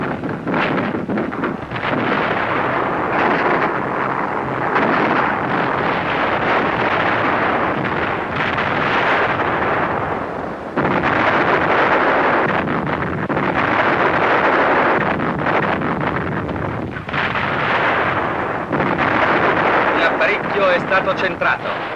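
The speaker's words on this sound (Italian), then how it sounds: "Le scariche delle mitragliere si uniscono con perfetto unisono al coro dei cannoni." Battle din from a 1942 newsreel of the Cyrenaica campaign, with machine guns and cannons firing together in a dense, continuous roar of blasts and rumbling that stays loud throughout, as if buffeted by wind.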